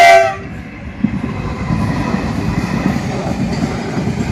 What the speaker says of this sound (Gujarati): આ માલગાડી છે ભાઈ,